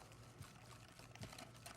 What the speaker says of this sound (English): keep whisking this quickly while you very slowly pour in the milk.